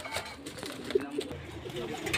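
Pakistani border golden pigeon chicks give soft, low coos, close by over a brief moment, with faint background murmur around them.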